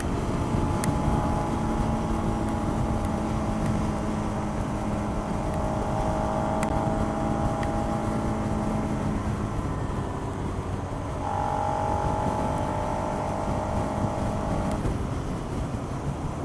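A Suzuki SV650 motorcycle rides at speed, its engine note droning steadily with tones shifting as the revs change, heard under wind noise and with no talk.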